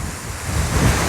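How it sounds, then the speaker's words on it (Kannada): Strong wind roars and buffets the microphone at a high viewpoint over the Srinivas Sagara reservoir near Chikkaballapur, a loud, continuous rushing sound with no voices. "ಫುಲ್ ಹೆವಿ ಗಾಳಿ."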